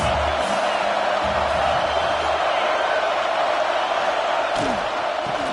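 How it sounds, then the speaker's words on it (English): Dense, roaring crowd noise fills a college football stadium during a heated rivalry game, a steady wall of cheering and shouting from near and far with a few sharp whoops, continuous and loud throughout. "This crowd trying to make life miserable for this offense."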